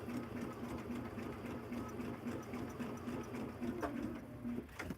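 Sewing machine running steadily as it stitches a quilt block seam, a continuous mechanical whir with a faint repeating hum, moderately loud and uninterrupted for the whole stretch.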